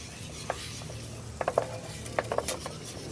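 A drink being stirred in a glass at a winery, with a few light clinks and scrapes of a utensil against the glass over quiet room tone.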